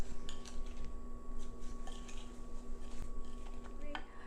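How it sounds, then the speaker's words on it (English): Sugar being stirred into a mango mixture in a bowl for a vegan mango cake, with light spoon clinks and soft scraping against the bowl, close and moderately quiet, over a steady background hum. "So you add about half and you give it a mix."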